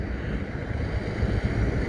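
The overflowing São Francisco river at Pirapora roars in a continuous, dense rush of floodwater, with low wind rumble underneath and no talking.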